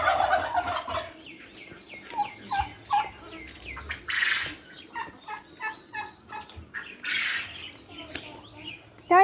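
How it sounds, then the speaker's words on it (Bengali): Poultry calls out in a series of loud, close clucks and squawks in short uneven bursts, with a voice briefly heard among them. "ও দেখো মুরগি, দেখো মুরগি, দেখো।"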